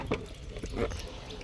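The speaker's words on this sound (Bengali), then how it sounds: "চলো বন্ধুরা জল দিয়ে নিই" Water is poured from a bucket onto plants in a couple of quick splashy gushes, fairly soft and close, with faint trickling between them.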